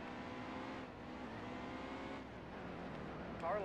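A race car engine in the NASCAR Heat 2 video game at Martinsville drones steadily at high revs, a constant buzzing whine with slight dips, moderately loud and without talk.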